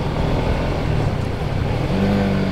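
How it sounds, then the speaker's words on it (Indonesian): A 2021 Honda CBR150R facelift motorcycle engine drones loudly and steadily while downshifting from third to first gear under engine braking, with a slight rising tone toward the end. "dari gigi 3, gigi 2 ke gigi 1 ada memang suara mesinnya rada gereng"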